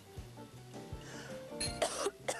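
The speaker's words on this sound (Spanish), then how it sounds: "Voy a toser otra vez." Several rough, close coughs in quick succession, low and throaty, with a few clinks of kitchen noise around them.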